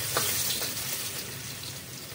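Garlic sizzling in hot cooking oil in a pan, a steady bright frying hiss with a brief louder crackle near the start, close and continuous with no talking.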